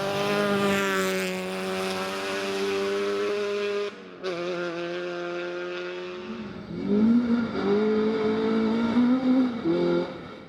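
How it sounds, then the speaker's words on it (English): A Honda Civic rally car screams along a forest stage, its engine holding a high sustained tone, then dropping and climbing again through gear changes, loud and close with a fading tail. "the Civic sounding as great as ever out on the stages"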